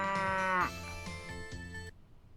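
A cow moos once as a game sound effect, a long, loud, low bellow that drops in pitch. A short burst of plucked musical notes follows and then cuts off abruptly.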